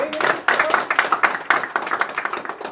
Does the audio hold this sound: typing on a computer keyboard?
no